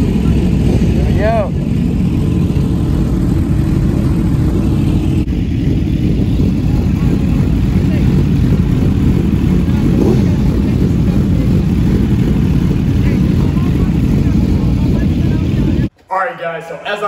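A 2001 Suzuki GSX-R 1000 sport motorcycle setting off on a ride, with a steady loud engine drone and heavy wind noise over the rider's microphone, and a brief cut near the end.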